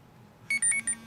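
An iPhone running iOS 6 plays its "Alert" text message tone: three quick bright electronic beeps in a short rhythmic burst, loud and clear over a faint hum.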